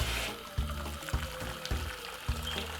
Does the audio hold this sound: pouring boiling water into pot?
yes